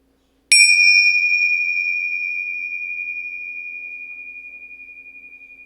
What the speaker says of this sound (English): Empty Jar Show is brought to you by the sound of the following chime.